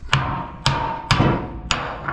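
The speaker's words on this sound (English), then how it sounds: "To take it out of barn door, I have a hammer right here." Four sharp metallic taps from a hammer striking a 2-inch inner-diameter steel tube, evenly spaced with short ringing decays between them.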